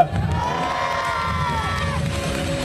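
A crowd at a motorcycle trial show cheers and whoops loudly, children shouting among them, a sustained burst of noise for a few seconds.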